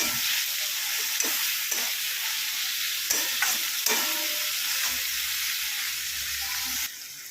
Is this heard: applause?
no